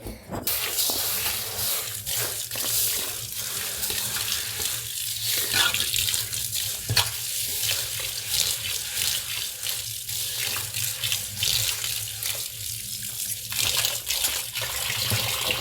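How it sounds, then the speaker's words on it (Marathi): Bajra grain being washed in a metal basin under a running tap, with steady water gushing and splashing continuously at close range, fairly loud, no voices. "ह्या घमेलामध्ये मी धुवून घेणार आहे चांगलं याची चांगली नाही का स्वच्छ पाणी होईपर्यंत मी धुणार आहे"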